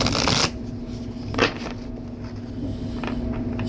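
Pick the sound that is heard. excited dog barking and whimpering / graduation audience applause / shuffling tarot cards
shuffling tarot cards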